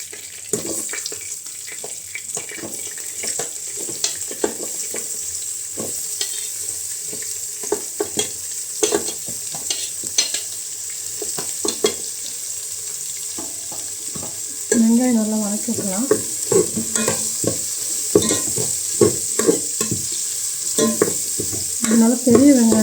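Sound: onions frying and being stirred in a pan

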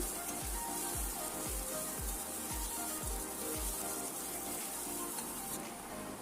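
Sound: chopped onion frying in hot oil

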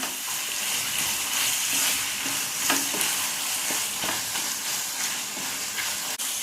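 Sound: stirring cheesy macaroni with sliced cheese in a pan

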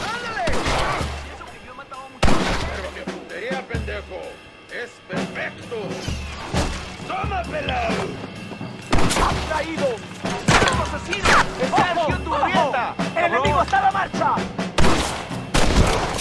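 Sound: gunfire in video game Red Dead Redemption

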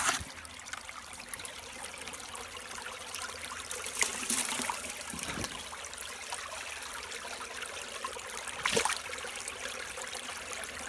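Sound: water flowing through a river gold sluice

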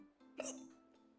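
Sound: hiccup

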